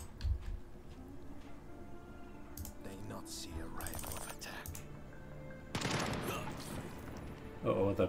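Unsilenced gunfire from the video game Jagged Alliance 3 comes in scattered loud reports, with a heavier burst toward the end, all under quiet speech and game ambience.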